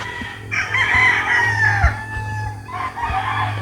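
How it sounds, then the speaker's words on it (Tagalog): A rooster crows at 6:25 on a cold morning among farm chickens, one long rising-and-falling call close by, followed by a second shorter crow, with low steady background hum throughout. "silipin natin yung ibang manok."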